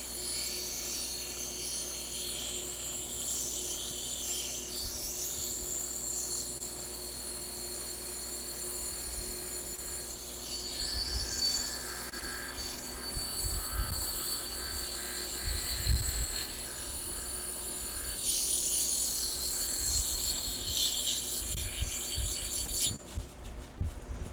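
A lapidary wheel shapes a piece of California fire agate under a spray of water, giving a steady high whine and grinding rasp that swells and eases as the stone is pressed in, ending in a brief louder scrape.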